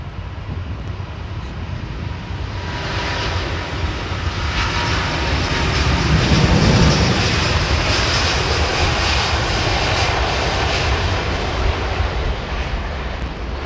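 Airbus A350 jet airliner arriving on runway 27R, a long loud roar of engines swelling as it passes nearby and then holding a broad, rumbling wash of jet noise.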